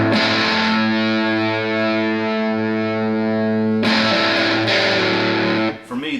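High-gain electric guitar through a Joyo US Dream distortion pedal rings out in loud, saturated sustained chords, one held for several seconds before fresh strums with a brief dip near the end; no talking.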